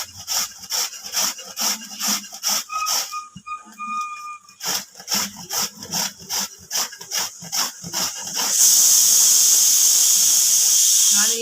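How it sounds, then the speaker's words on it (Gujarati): Bottle gourd (dudhi) rasped against a hand grater in quick, regular back-and-forth strokes, close and scratchy, before giving way to a loud steady hissing whistle. "આવી રીતે આપણે આટલી દૂધી ખમણી લઈશું."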